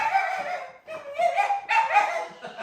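A dog whimpers and yelps in a run of high, whining cries, close and fairly loud, with short pauses between bursts.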